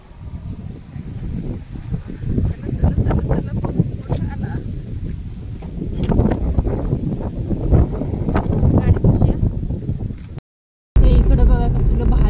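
Heavy rain with gusting wind around a car stopped at the roadside, a dense, rumbling wash of noise with wind buffeting the microphone, briefly dropping out near the end.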